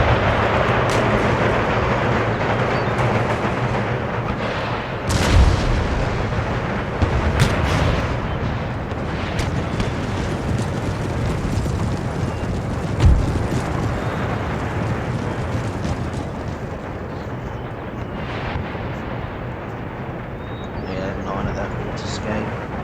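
Artillery guns fire during a siege of Brussels in the strategy game Empire: Total War, with a constant rumbling battle din and occasional heavier booms, while someone talks over it much of the time.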